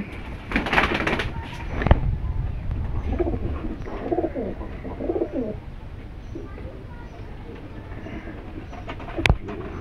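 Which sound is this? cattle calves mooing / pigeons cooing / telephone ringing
pigeons cooing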